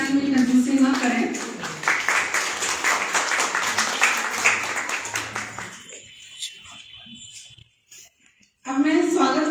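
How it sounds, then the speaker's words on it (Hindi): Audience applause at a spring poetry festival and award ceremony in Bhopal, a steady round of clapping under a voice that fades out, followed by a near-silent pause before speech resumes. "कृपया ताली बजाने में कंजूसी न करें।"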